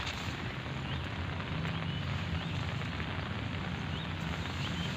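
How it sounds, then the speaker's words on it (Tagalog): Rain falling outside, a steady broadband hiss and patter that continues evenly without a break. "dito na ulan na ulan dyan"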